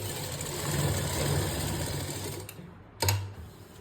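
A sewing machine stitches a V-neck on a suit, its close, steady motor whir running continuously before a brief stop and a short restart.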